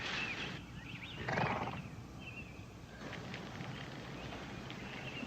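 A team of horses pulls a wagon, their hooves giving a faint, distant, steady clip-clop amid soft rustling background noise.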